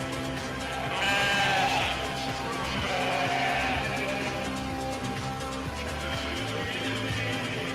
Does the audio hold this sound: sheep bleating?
yes